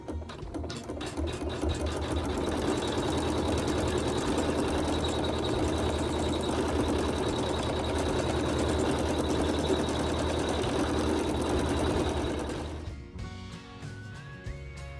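A sewing machine stitches fabric for a quilt block in a steady, loud mechanical whir with rapid rhythmic needle strokes that run continuously for about twelve seconds before stopping abruptly, leaving quieter handling noise.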